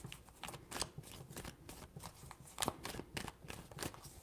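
Tarot cards are shuffled in a quick run of crisp, irregular riffling flicks, fairly faint and close, with no talk.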